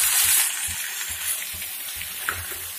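Masala fries in a pan with onions browned for prawn masala curry, a soft, steady hissing sizzle with faint scraping and stirring.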